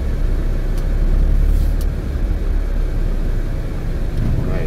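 A van rolls along the road, its engine and tyre rumble holding steady and loud from start to finish, with a faint voice briefly audible underneath.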